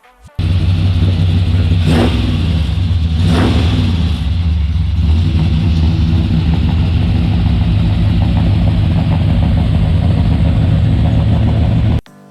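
A Chevrolet C20 pickup in Need for Speed makes a loud, steady engine drone with a couple of quick revs early on. It runs alone, with no voices.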